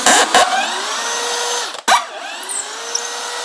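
A power tool unscrews bolts on a Surron Ultra Bee fork, with short bursts of whirring at the start and another burst near two seconds, close and loud, followed by a fading spin-down hum.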